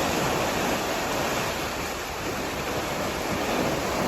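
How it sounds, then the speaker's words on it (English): Loud, steady rush of water gushing through a canal lock, a continuous broadband roar with no pauses, close by. "with all this water gushing out."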